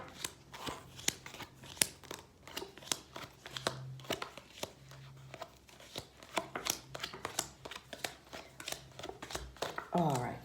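Tarot cards are shuffled and dealt out in soft, quick riffles, flicks and slaps, close and fairly quiet, with a few pauses between bursts.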